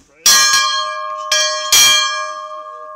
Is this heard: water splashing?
no